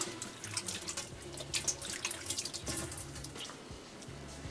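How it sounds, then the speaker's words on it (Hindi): Running tap water in a kitchen sink while hands are washed, a steady moderate splashing stream with small drips and shifting gurgles throughout, fairly close and with no talking. "2 मिनट में हाथ धो लूँ"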